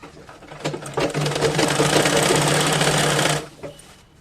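A sewing machine stitches cloth for a shirt collar on a school uniform shirt, ramping up into a fast, loud rattling run of about three seconds before slowing and stopping, close to the microphone.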